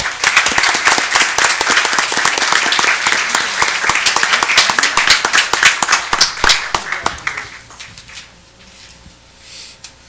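An audience at a school district board meeting claps loudly and steadily for student artists, dense applause that thins into scattered individual claps and fades to quiet room tone with a few faint sounds.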